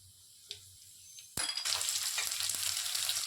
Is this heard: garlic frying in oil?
yes